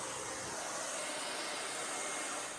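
A hair dryer blows on a watercolor painting to dry it, a steady, close, loud whoosh of air that runs unbroken from start to finish.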